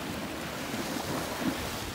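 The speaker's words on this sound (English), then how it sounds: "These are proper big waves." Big waves on the River Mersey near Liverpool, a steady broadband wash of water and wind noise rolling on without pause, fairly loud and close, with a couple of slightly stronger surges.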